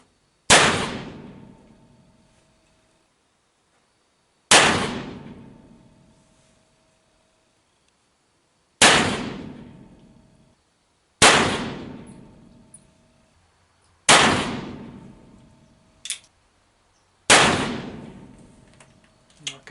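A .36 caliber black-powder gun fires a string of Lee conical bullets: six loud, sharp reports spaced several seconds apart, each ringing off briefly, with faint background noise between shots.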